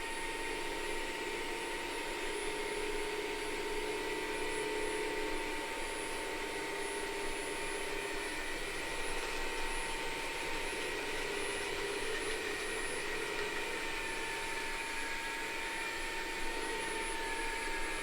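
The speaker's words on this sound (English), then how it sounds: "We're going to turn it on max suction. And that means I press this button and it goes on max suction." A Bissell Crosswave OmniForce wet-dry vacuum and mop runs on max suction, giving a steady, continuous motor drone with a high whine that holds for the whole stretch, with no talking.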